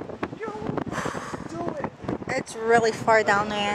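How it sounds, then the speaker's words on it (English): Gusty wind buffets the microphone at the edge of a deep crater lookout, a rough low rumble rising and falling under a person speaking close by. "Why is it so windy all of a sudden?"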